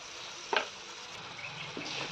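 Mutton liver fry with ginger garlic paste stirred in a pan, a steady soft sizzle with a brief scrape of the spoon early on and lighter stirring near the end.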